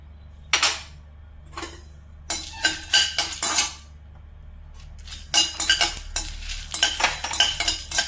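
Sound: cumin and fennel seeds being dry-roasted and stirred in a pan

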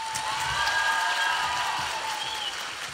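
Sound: concert audience applause

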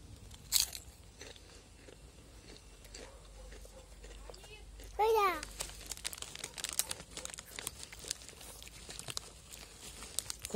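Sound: cat crunching potato chips

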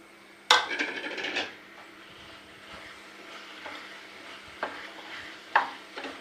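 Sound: stirring crumbled paneer bhurji in a pan

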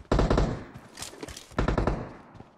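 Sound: gunfire in PUBG Mobile video game

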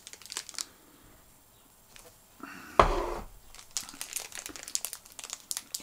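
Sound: cellophane wrapper on cigars crinkling

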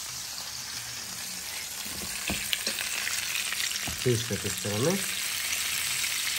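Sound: meat searing in hot oil

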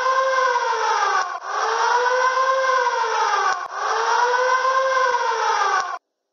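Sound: gas alarm siren

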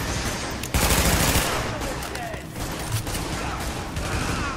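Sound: gunfire from The Division video game

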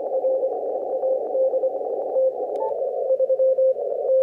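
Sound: radio tone through a 600 Hz roofing filter

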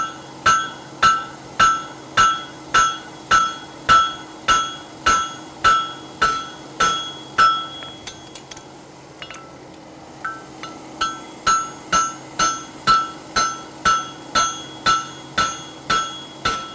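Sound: hammering horseshoe over anvil horn

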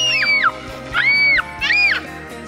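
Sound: child screaming loudly

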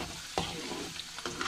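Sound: bitter gourd pieces frying in oil

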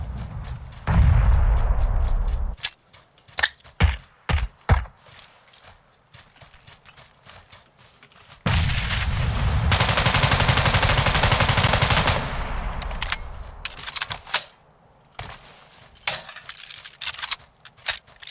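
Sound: gunfire in the video game PUBG

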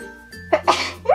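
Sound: sneeze

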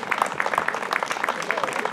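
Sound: applause from the crowd

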